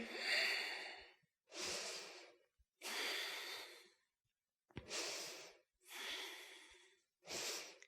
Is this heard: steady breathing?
yes